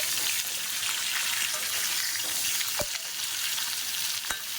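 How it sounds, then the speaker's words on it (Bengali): Bata fish fries in a pan with a steady sizzle of hot oil throughout, moderately quiet, with a couple of sharp clinks from a utensil and no voices. "এটা প্রায় ভাজা হয়ে গেছে।"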